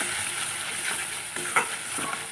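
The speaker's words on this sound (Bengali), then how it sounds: "যতক্ষণ না তেল ছাড়ে ভালো করে কষিয়ে নেবো" Spice paste with chili fries in oil while being stirred, a continuous close hiss and crackle with scraping strokes of a spoon and one brief sharper clack, steady and unaccompanied by speech.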